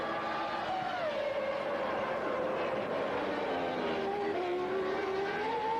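A Formula 1 car on the Monaco street circuit during 1999 qualifying, its engine a loud, continuous whine that rises and falls in pitch through the lap.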